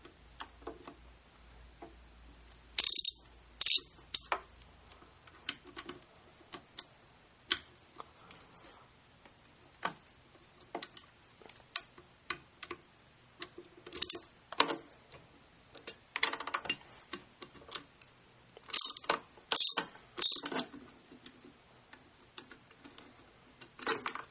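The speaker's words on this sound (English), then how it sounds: "The first step will be to remove the bolts holding the motor to the pump body." A ratchet removes the bolts holding the motor to the body of a Grundfos UPS 200 series circulator pump. Quick bursts of close, crisp clicking are separated by short pauses.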